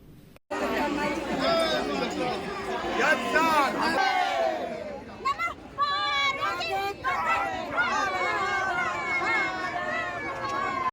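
A large crowd of devotees packs a temple in Varanasi, with dense chatter, shouts and excited calls overlapping loudly and continuously close by.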